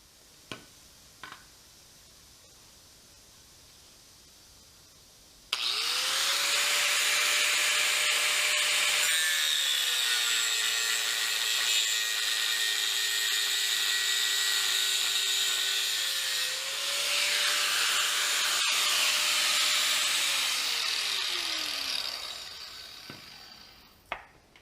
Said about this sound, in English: All right, let's cut the studs off.